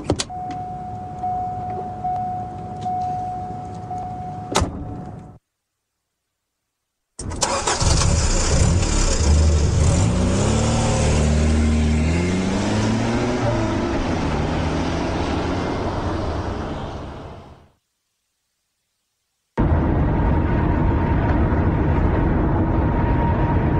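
Car engine starting and revving as the vehicle pulls away and accelerates, a loud sustained engine roar with a rising pitch, bracketed by brief silent gaps and a steady idling hum.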